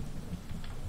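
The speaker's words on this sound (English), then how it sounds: "I love the rain effect, but the lag is real in this." Steady rain with a low thunder rumble plays as ambient weather in the video game Starbound. The hiss is dense and continuous through the whole second, with no voices.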